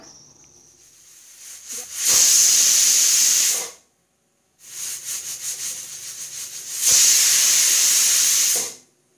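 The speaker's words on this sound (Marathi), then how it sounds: "कुकरला झाकण लावून घेऊया आणि 3 शिट्ट्या काढून घेऊया" A pressure cooker cooking tondli (ivy gourd) lets out two long, loud bursts of hissing steam and whistling, each swelling for a couple of seconds before cutting off abruptly.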